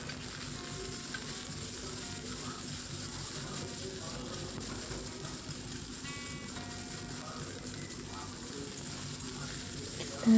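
Cooked rice with turmeric and salt sizzles in a hot pan as a spatula stirs and mixes it, a steady frying hiss with soft scraping that runs throughout at a moderate level.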